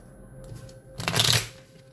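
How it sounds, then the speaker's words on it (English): Tarot cards shuffled quickly by hand: a short, close papery riffle of about half a second rising out of a quiet room, then fading back to near silence. "I'm just shuffling really quick, guys."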